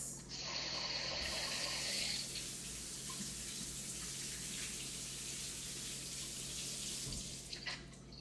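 Cherry tomatoes rinsed under a running kitchen tap, a steady close rush of water splashing into a sink, louder and brighter at first, then settling into a continuous flow before shutting off near the end.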